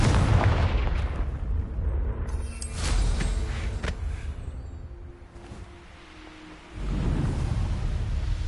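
A fiery Confringo spell explosion in Hogwarts Legacy gives a loud, broad roaring boom. The blast dies down to a softer rumble and then swells again near the end.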